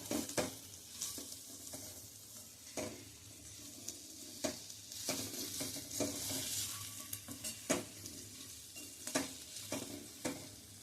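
Raw Totapuri mango pieces sauté in a pan over a medium flame: a soft, quiet sizzle broken by irregular spatula scrapes and clinks against the pan, with no one speaking.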